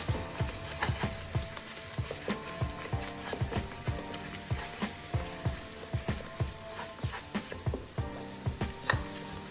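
A dal mixture stirred in a kadhai, a repeated rhythmic scraping of a spoon against the pan over a soft continuous sizzle, close and fairly quiet.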